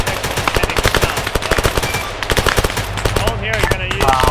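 Rapid machine-gun bursts from a military video game pound out in a steady, loud, closely spaced rhythm, with faint radio-style voices underneath.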